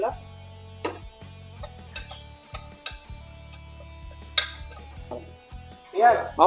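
Spices are mixed into duck meat in a metal cooking pot, with intermittent clinks and scrapes of a utensil over a low steady hum while people talk.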